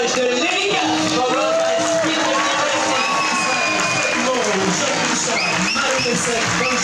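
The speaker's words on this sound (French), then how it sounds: "Merci de faire un tonnerre d'applaudissements pour l'équipage de l'Erika" Crowd at the Bol d'Or Mirabeau sailing race prize ceremony in Geneva claps and cheers for the winning crew, with whoops and children's shouts rising over steady applause and voices mixed in.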